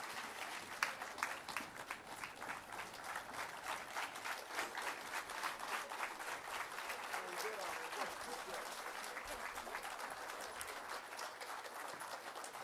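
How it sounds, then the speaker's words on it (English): Sustained applause from an audience greeting the president, Dr. Netumbo Nandi-Ndaitwah, at the launch of Namibia's NDP6, dense steady clapping filling the whole stretch at moderate level with crowd noise beneath. "Let's continue giving Her Excellency a round of applause."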